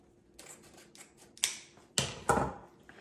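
Scissors snip ribbon that has been folded several times for a Christmas wreath, with a few quiet clicks followed by two or three sharp, close cuts near the end and no talking.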